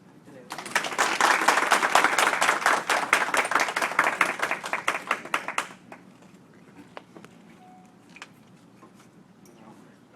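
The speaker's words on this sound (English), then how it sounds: "And so applaud Robert on his pursuit and his continued journey." Close, dense hand clapping from a small group at a retirement party, starting abruptly, holding strong for about five seconds, then thinning to a few scattered claps and quiet room noise.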